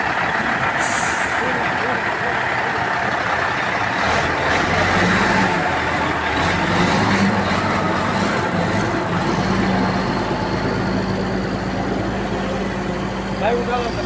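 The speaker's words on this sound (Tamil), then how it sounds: "கிரேன் ஆப்ரேஷன் மொத்த யூனிட்டையுமே இவ்வளோ பெரிய கிரேனில் வச்சு தூக்கி வண்டியில் கொண்டு போடுவோம்" A large crane lifts a whole desert cabin unit onto a truck; heavy truck engine rumble and air-brake hiss fill the scene continuously, with people talking over the steady mechanical noise.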